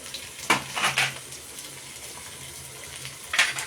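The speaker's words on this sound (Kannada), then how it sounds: "ಈರುಳ್ಳಿ, ಬೆಳ್ಳುಳ್ಳಿ, ಹಸಿಮೆಣಸಿಗೆ ಎಲ್ಲ ಫ್ರೈ ಆಗುತ್ತೆ ತುಪ್ಪದಲ್ಲಿ" Onion, garlic and green chili fry in ghee, a soft steady sizzle broken by a few sharp stirring scrapes in the pan.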